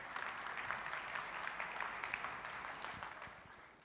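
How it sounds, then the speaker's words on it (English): Audience applause in a conference plenary hall as guests return to the stage, a steady, moderately faint wash of clapping that continues alone throughout. "Please applause for the folks coming in."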